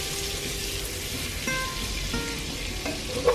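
Butter for a cream sauce sizzling in a pan, a soft continuous crackle with a few faint clinks and taps over it, no talking.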